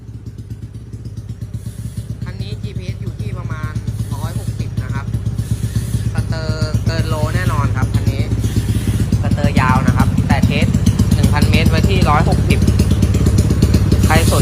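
A Honda Wave 125 fuel-injected motorcycle with a loud open exhaust and foot clutch runs close by, a steady rapid throbbing idle that swells slightly louder over time, with someone talking over it at moments.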